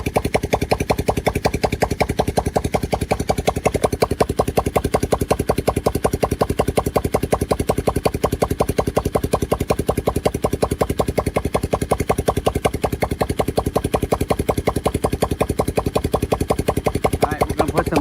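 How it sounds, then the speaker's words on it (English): A small ATV engine runs steadily at a rapid, even putter, close by and constant throughout, with no change in speed. "We got the engine running."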